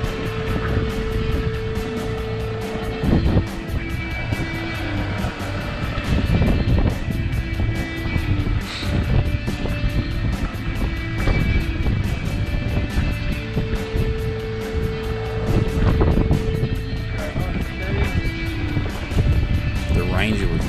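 A Ranger 4WD crawls along the snowy Powerlines Track near Lithgow, NSW, its engine a steady rumbling drone with occasional knocks and surges, while people talk over it throughout.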